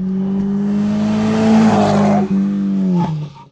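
A Mazda MX-5 NC Miata roadster drives on a race track at a Moroccan trackday, its engine droning steadily in a close in-car tone, climbing in revs before dropping sharply on a gearchange and easing off.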